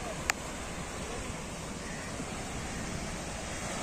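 Sea waves wash in at Patenga beach in Chattogram, a steady soft surf wash heard from nearby, faint and continuous with a light wind hiss and no talk.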